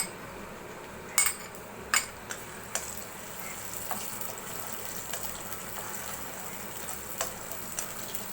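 Dried fish and garlic fry in oil in a wok, a steady low sizzle with a few sharp clinks of a utensil against the pan near the start and softer taps after.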